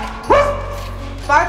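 A person barks in imitation of a dog, giving two short, loud yelping barks a second apart over a quiet room hum.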